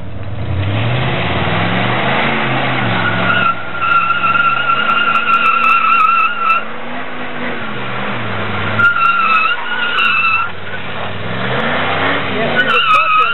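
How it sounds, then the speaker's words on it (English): A loud engine revs up and down repeatedly while tires squeal in sustained screeches during a smoky car burnout, close by and continuous. "The smoky burnout."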